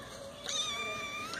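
A cat at an animal shelter lets out a single long, wavering meow, loud and close, rising then sliding down over about a second against a faint room hum.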